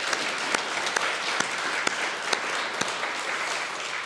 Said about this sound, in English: we should give a large round of applause to Terry